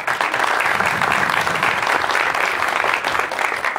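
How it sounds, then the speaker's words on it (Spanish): Audience applause at a community event in Tecámac, a dense steady roar of many hands clapping that holds at full strength for the whole stretch, with no voices on top. "nuestro compañero Santos Rosales, fuerte el aplauso para él"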